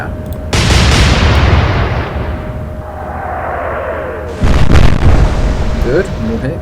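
Two heavy naval gun salvos boom in a World War II Atlantic Fleet sea battle, each a loud deep blast followed by a long rumbling decay, the second arriving a few seconds after the first.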